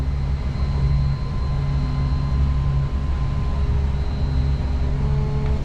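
An outboard motor on a 27-foot North River boat runs during a water test after a repower, giving a steady low droning hum with a faint whine above it, continuous and close throughout.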